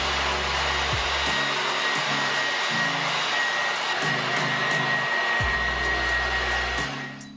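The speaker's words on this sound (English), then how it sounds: "I'm gonna dry my hair slightly with the hairdryer" A hair dryer runs loud and steady with a constant whooshing roar, its motor pitch shifting a few times as the setting changes, then trailing off at the end.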